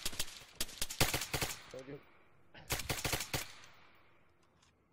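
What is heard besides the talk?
gunfire in a shooter video game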